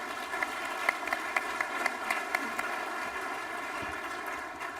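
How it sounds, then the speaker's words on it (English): Audience applause for the panelists of an energy and utilities conference plenary session, a steady wash of clapping in a hall with scattered sharper claps standing out, moderately loud, with no talking over it. "Let's give them a nice round of applause to our panelists."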